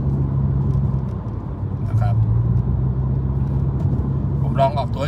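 A Honda car running a Hondata tune on E20 fuel, launching hard: a steady, fairly loud low engine drone with a voice speaking briefly over it and again near the end.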